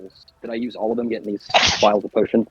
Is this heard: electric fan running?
no